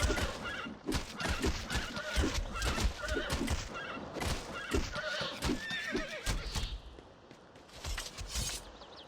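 A horse in The Bard's Tale game whinnies loudly several times over a stretch of heavy hoof clopping and thumps, a busy, close and uneven burst of animal noise.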